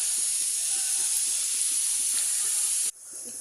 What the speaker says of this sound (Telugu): కొద్దిగా ఆయిల్ వేసుకొని వేగనివ్వాలి.